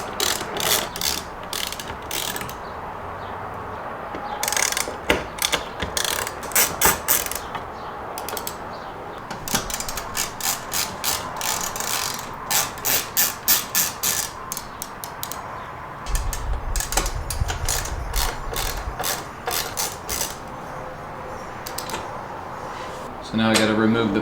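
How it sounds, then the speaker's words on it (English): Screws holding the sunshade in a 2011 Audi S5 are backed out with a ratchet, rapid clicking bursts repeating in short runs at close range, with someone talking in between. "So now we're going to take off the 4 screws that hold in the Rollo shade."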